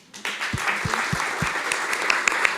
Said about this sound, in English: I want to applause for all the panelists.